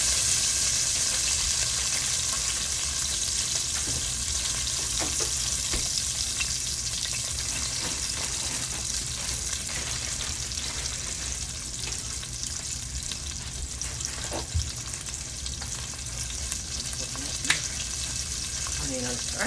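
Food for an Alfredo pasta fries in a pan with a continuous bright sizzle, broken by occasional scrapes and clinks as it is stirred, close and steady throughout.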